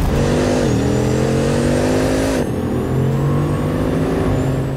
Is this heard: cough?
no